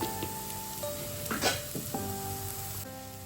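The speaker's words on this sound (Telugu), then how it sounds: "ఇవి మంచిగా ఫ్రై అయ్యాయండి." Vegetables fry in a pan for a millet upma with a steady close sizzle and crackle. Occasional stirring clinks and scrapes of the spoon come through, and no one speaks.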